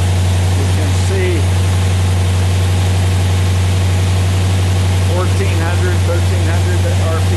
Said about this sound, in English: this has been idling really high ever since I got it running.